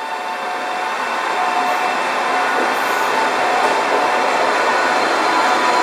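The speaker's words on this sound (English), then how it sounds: "That was my train. There she goes," Continuous broad rumble of a Polish train close by, departing Malbork station for Warsaw, steadily building in loudness as it moves off, with a faint high whine over the roar.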